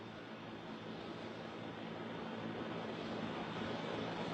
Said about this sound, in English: And here it comes in now, this JetBlue flight 292 with that front nose gear pointed sideways.